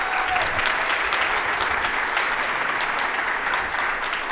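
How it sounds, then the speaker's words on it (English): Audience applause fills an awards ceremony hall, a steady dense wash of many hands clapping at even loudness throughout, with no voices standing out. "Everybody applaud."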